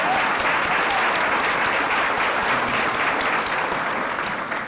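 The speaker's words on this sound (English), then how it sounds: "join me in a round of applause to honor them." An audience at a chamber of commerce annual banquet applauds steadily, dense clapping filling the whole stretch before it begins to taper at the very end.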